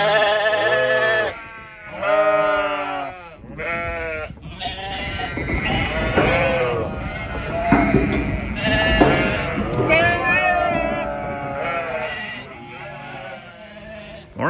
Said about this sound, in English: All right, lammy lambs, come on out.